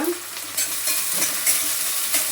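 Chopped onion frying in hot oil makes a steady, bright sizzle with soft crackles and occasional stirring scrapes, close up and continuous, without any talk.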